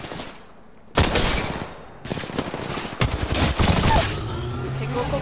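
Rapid automatic gunfire from an Apex Legends match comes in loud, dense bursts, with a brief pause between volleys, close and punchy over the game's background noise.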